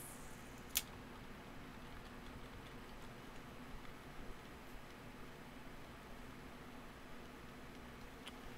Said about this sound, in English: it's just rainy and overcast.